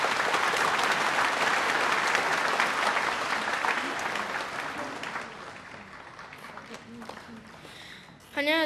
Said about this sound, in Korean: 박수로 한번 맞아주시기 바랍니다